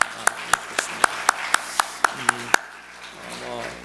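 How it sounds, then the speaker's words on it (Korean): Loud, evenly spaced hand claps, about ten in a steady rhythm, ring out in a church setting before stopping, with murmured talk running underneath. "분들을 위해서 한번 격려로 박수하면 좋겠습니다"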